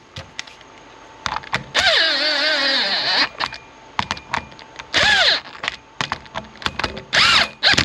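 A power tool runs small screws down into go-kart grip strips on an upgraded Crazy Cart, heard as several short whirring bursts that rise and fall in pitch, separated by light handling clicks and taps, close up with no speech.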